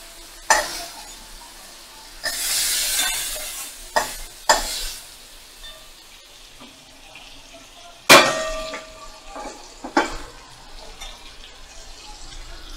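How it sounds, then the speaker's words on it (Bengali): Fried shrimp are stirred in a hot pan and lifted out, with bursts of sizzling oil, scraping and clanging of a utensil against the metal, several sharp strikes spread across the stretch. "চিংড়ি মাছগুলো ভাজা হয়ে গেছে, এবারে আমি"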